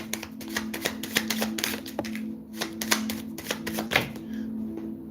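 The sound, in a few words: shuffling a deck of tarot cards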